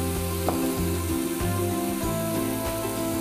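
Leeks frying in a pan over medium heat, a steady close sizzle and crackle with soft stirring scrapes, even and continuous.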